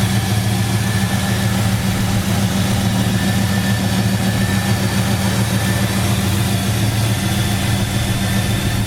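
A 1967 Oldsmobile Cutlass convertible idles steadily through newer dual exhaust, a continuous low rumble heard close by with no talk and little change in pitch.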